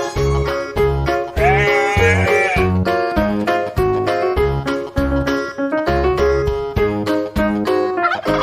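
A farm goat gives a wavering bleat partway through, set over a loud, rhythmic children's music track that carries on throughout.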